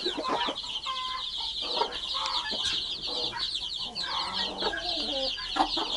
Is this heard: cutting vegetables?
no